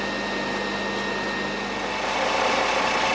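A metal lathe turns a 30mm piece down to about 17mm, giving a steady, continuous machining whir that grows slightly louder toward the end, with no voices.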